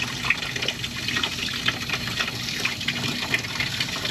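Water runs and splashes steadily from the lower unit of a 1989 Johnson 48 Special outboard motor, a continuous close hiss of flowing liquid with no speech.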